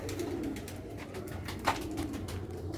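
Rare Sialkoti slate-grey pigeons cooing softly and continuously at close range, low murmuring coos layered over a steady background hum with a brief sharper note midway.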